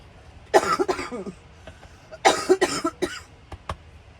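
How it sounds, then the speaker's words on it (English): Woman coughing indoors near a running fan, two clusters of several rapid, close coughs a second or so apart, followed by a few softer isolated throat sounds against a quiet background. "little coughs just come out of nowhere"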